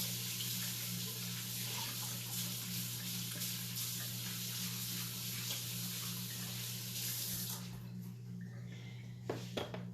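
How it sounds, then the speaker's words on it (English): Running kitchen tap water pours steadily as hands are washed beneath it, a soft, even rushing hiss that holds for most of the stretch before tapering off with a few faint knocks at the end. "I'm going to wash my hands off real quick"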